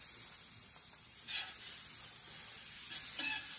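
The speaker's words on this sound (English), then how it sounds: "Because you saw I had a little perfect sizzle on there." Buttermilk pancakes sizzling on a griddle, a steady bright hiss with brief louder flares of frying, heard close and without speech.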